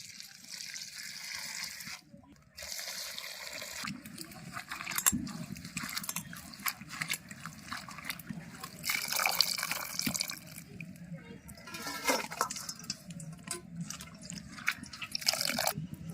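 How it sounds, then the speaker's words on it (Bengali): Greens, potatoes and eggplant are rinsed under a running tap in a home kitchen, with steady splashing water, intermittent drips and handling noises throughout, fairly close and moderately loud. "এবার শাক, আলু, বেগুন সব ধুয়ে নেব।"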